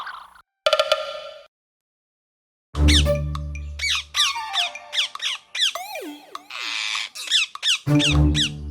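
Cartoon parrots in a Kannada kids' animated story burst into a rapid flurry of shrill squawks and squeaks, loud and close, following a short clang and brief silence, with overlapping calls tumbling quickly one after another.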